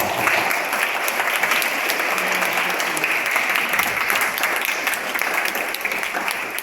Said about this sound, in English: you have to give them a generous round of applause